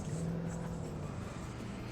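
A car drives in the game Alan Wake. Its engine holds a steady, low, fairly quiet drone, with a faint hum and no clear revving.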